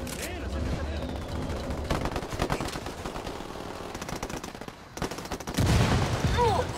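Video game gunfire in Ghost Recon Wildlands: rapid automatic bursts and single shots crackle almost without a break, loud and dense, with a heavy, louder stretch near the end and talk in the background.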